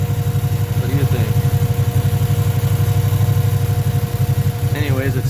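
A Toro Workmaster three-wheeler's small engine runs steadily and loudly throughout, with an even, throbbing rumble; brief voices come through faintly near the start and end.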